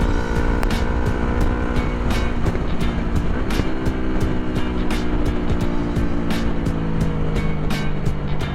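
A Yamaha R3 motorcycle riding on a road, its engine droning loud and steady with shifting pitch and sharp repeated pops or clicks along the way, no talk.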